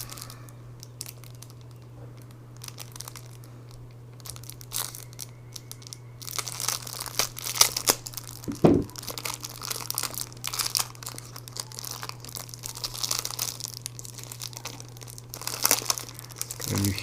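A Lord of the Rings card game pack is torn open and its wrapping crinkled, with quiet rustling at first and then busier crumpling and tearing close by, over a steady low hum.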